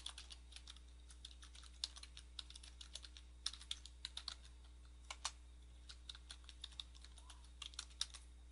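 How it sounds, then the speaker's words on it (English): Fingers tap a computer keyboard while entering a website address, producing quick, crisp clicks in uneven bursts with short pauses, close and quiet over a low steady hum. "then we will type in the site address"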